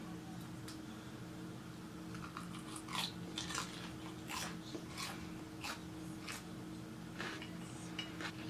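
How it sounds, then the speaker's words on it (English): Quiet, intermittent crunching bites of Korean junk food spaced out over a low steady hum, close and faint, with no talking. "I wonder if you guys can hear how crunchy this is in the footage"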